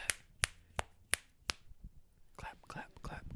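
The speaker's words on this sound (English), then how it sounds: "Clap, clap, clap, clap." Five sharp, evenly spaced hand claps ring out close by, followed by soft murmured whispering.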